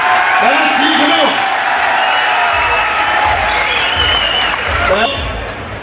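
Crowd clapping at a village panchayat gathering in Anangpur, Faridabad, building into a dense burst of applause mixed with cheers, while someone speaks over it at the start.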